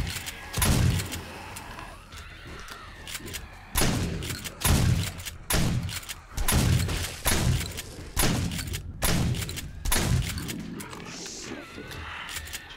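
Heavy gunfire during a zombie horde night in 7 Days To Die with the Darkness Falls mod: a dozen or so loud, close shots and thuds fire in an uneven rhythm, roughly one per second, with brief gaps between bursts.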